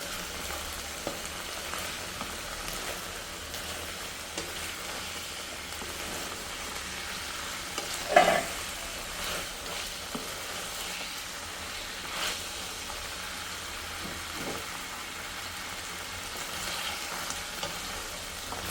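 Chicken pieces for a chicken curry frying in a pan give a steady, dense sizzle throughout, with one brief louder clatter near the middle and no talking.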